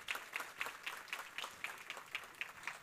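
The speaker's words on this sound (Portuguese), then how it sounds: "Uma salva de palmas para o Marcel." A small audience claps in a quick, fairly regular rhythm, distinct individual claps in a short, modest burst of applause heard at moderate distance.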